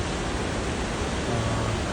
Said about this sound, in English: river there. Heavy rapids.